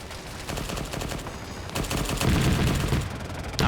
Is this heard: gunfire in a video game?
yes